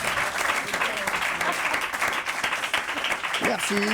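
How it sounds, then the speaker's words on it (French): A French television talk show studio audience breaks into loud, sustained applause, a thick wash of clapping that holds steady for several seconds, with a brief voice surfacing near the end. "applaudissements pour Marc Menon, Caroline Turbi"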